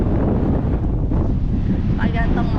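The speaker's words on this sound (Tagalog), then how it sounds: "pag gantong mahangin." Heavy wind buffets the microphone in a constant loud rumble while cycling, with a faint voice briefly audible beneath the roar.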